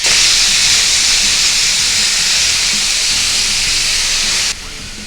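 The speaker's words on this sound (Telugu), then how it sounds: "ఇప్పుడు ఈ చికెన్ని ఈ ఆయిల్లో వేసుకొని కొంచెం ఫ్రై చేసుకోవాలి" Chicken frying in a little oil in a hot pan, a loud, steady sizzling hiss filling the whole clip that drops abruptly to a softer level just before the end.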